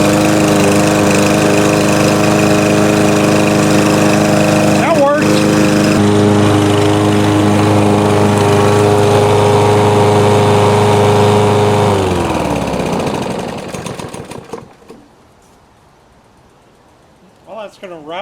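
A lawn mower engine runs loud and steady up close on the last mow of the 2024 season, its drone holding for about twelve seconds before winding down and cutting out into near silence.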